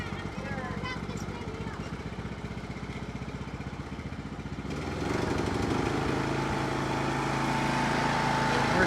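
A John Deere riding lawnmower engine runs steadily close by in a backyard garden, a continuous mid-pitched drone that grows louder and rougher partway through as the mower nears or throttles up.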